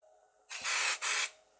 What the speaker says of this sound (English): A quick spray of temper adhesive spray and we're ready to place our fabric.